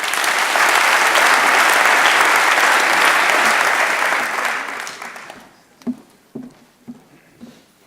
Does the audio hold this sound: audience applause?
yes